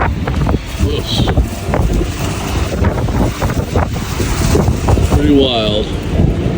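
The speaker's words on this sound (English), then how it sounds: "Stuff that I can really show you how hard the wind's blowing" Strong wind gusting outdoors, a loud continuous buffeting roar across the mic, with a person speaking briefly over it.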